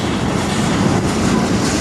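A CN freight train hauling potash cars rolls past close by, a loud, steady rumble and roar with no distinct breaks.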